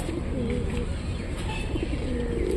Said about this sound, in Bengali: এই যে এই জায়গায় মনে হয় 200-300 কবুতর আছে